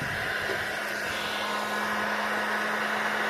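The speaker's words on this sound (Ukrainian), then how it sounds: "Включаємо фен" A steady, loud blowing whir of a hot air gun heating a computer board connector, running continuously with a constant hum, no voices.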